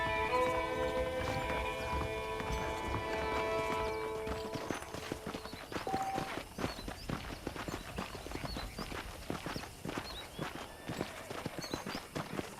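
Horse hooves clip-clop steadily at a walking pace in the Red Dead Redemption video game, close and rhythmic, taking over as background music fades out.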